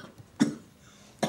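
A man gives two short, close coughs about a second apart in an otherwise quiet room.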